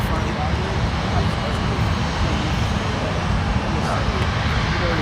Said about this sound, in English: And right now we have American Flight 2397 taking off for Charlotte, North Carolina.